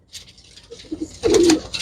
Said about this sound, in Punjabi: ਲਾਲ ਕਬੂਤਰ ਆ ਬਾਈ